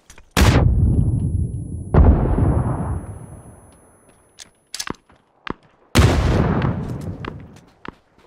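Heavy in-game gunfire in a multiplayer shooter: three big booming shots with long echoing tails, plus several sharp, quick cracks between them, loud and close with no talk.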